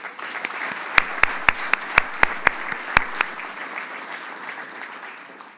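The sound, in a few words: applause for Women's Senior Player of the Year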